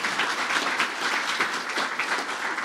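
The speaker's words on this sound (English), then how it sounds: "So round of applause for him for doing that." A room full of people gives the sheriff a steady round of applause at a police promotional ceremony, dense clapping sustained throughout with no voices heard.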